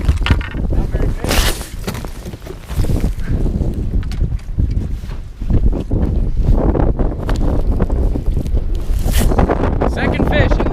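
Gusty snowstorm wind buffeting a fishing boat out after musky, roaring loudly into the microphone in surges with brief lulls, alone with no talk.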